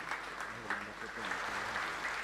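A church congregation at a Mass marking a priest's 31st ordination anniversary in Caacupé applauds steadily for a couple of seconds, a dense crowd clapping mixed with voices in a reverberant space.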